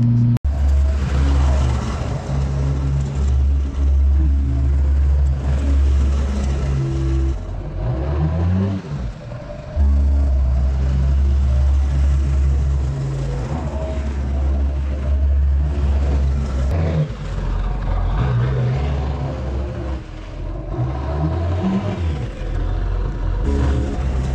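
Salting truck circling through parking lots after the first snow, a loud continuous engine drone with rising and falling revs and passing rumble, heard from inside with no talk.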